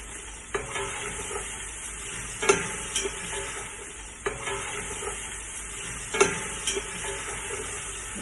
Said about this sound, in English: That is pepper and garlic. And let's cook it up.